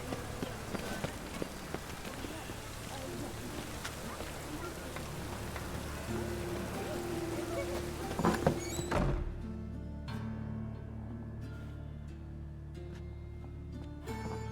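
Steady rain falls over a town in The Witcher 3: Wild Hunt, a broad hiss for about nine seconds, then a dull thump and a quieter, thinner patter of drops with low background ambience.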